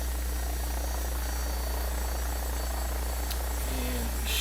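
An AW109 SP helicopter lifts off in the X-Plane 12 flight simulator: a loud, steady rotor and turbine drone holds evenly throughout, with no talking.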